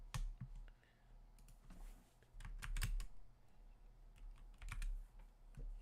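Quick bursts of typing on a computer keyboard, clicks coming in uneven clusters with short pauses between, close by and fairly clear.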